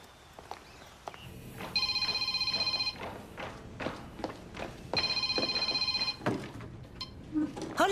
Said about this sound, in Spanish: Sven, me has llamado, ¿no?